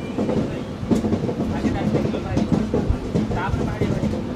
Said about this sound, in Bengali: আমাদের ট্রেন কিন্তু বাঁ দিকে টার্ন নিচ্ছে